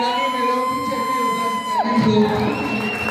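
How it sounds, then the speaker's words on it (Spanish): Audience at a hip hop show shouting and whooping, with sustained tones and a sliding pitch over the crowd, voices rising together in a loud, close burst. "Pero yo quiero un grito, un aplauso para el sonido Alfa"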